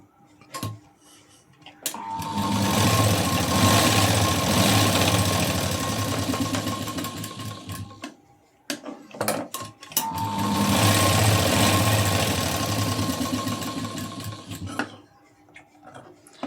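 A sewing machine stitches a second seam over tucks on the cup section of a blouse front neckline. Two long, loud, steady whirring runs are split by a short pause filled with clicks and fabric handling, with no voices.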